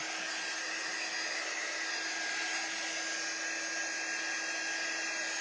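A hair dryer runs steadily at close range, drying a craft project with ink transfers, making a constant whooshing blow with a faint hum, uninterrupted and alone for the whole stretch.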